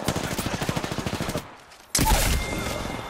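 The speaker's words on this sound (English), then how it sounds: "Someone's shooting down on Pinky." Rapid automatic gunfire in an Apex Legends ranked match, a dense burst of sharp shots for over a second, a brief lull, then a loud blast of further action.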